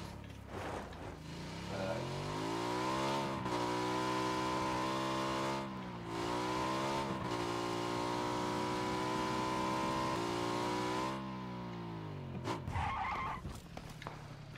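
Motorcycle engine in the battle royale game PUBG revving steadily, its pitch climbing and falling in long sustained sweeps, loud and close, with a brief dip mid-way before idling down at the end.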